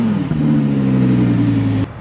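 Audi R8 GT rear-wheel-drive with its V10 FSI engine holds a loud, steady high-rev note for about a second and a half, then cuts off abruptly.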